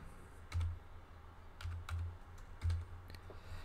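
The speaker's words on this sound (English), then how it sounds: "type his name in" Keys clack on a computer keyboard as a player's name is typed in, a few quick bursts of keystrokes with short pauses between, close and fairly quiet against a faint background hum.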